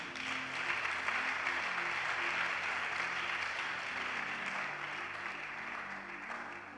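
A church congregation claps for the Lord in sustained, dense applause that stays fairly distant and even, with a faint murmur of voices underneath.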